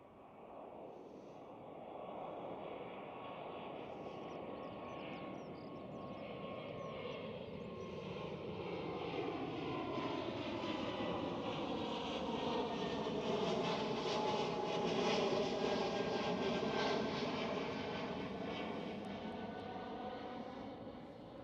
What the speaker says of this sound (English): With of course an Airbus A220.